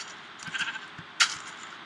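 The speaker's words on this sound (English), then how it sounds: "Hey, it's the sheep." A single short, bright bleat of a sheep in Minecraft rings out over a faint background hum, preceded by a few soft low thumps.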